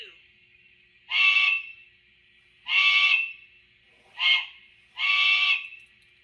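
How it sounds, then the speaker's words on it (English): On an On30 scale trench locomotive model, the second whistle option gives four hooting blasts, long, long, short, long, bright and fairly loud with quiet gaps and no voices. "Trench whistle 2."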